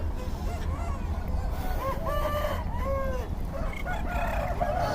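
Tethered native chickens and roosters at a country poultry market in Nallapadu, with several overlapping crows and clucks, some honking calls, over a busy crowd murmur.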